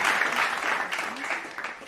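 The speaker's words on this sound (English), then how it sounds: "Please give her a round of applause" Applause from a forum audience in the Philippines welcoming someone speaker, a brief, steady patter of many hands that fades slightly toward the end.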